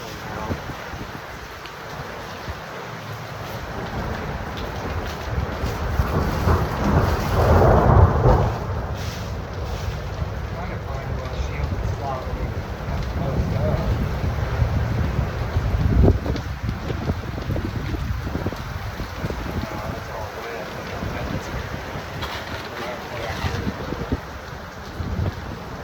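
Strong gusting wind from a thunderstorm roars and buffets a microphone outdoors, a continuous heavy rumble swelling in surges with no voices heard.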